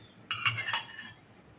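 A metal lid is set onto a pot of sweet potato cooking in jaggery syrup, giving a short cluster of bright clinks and clatter that then settles to quiet.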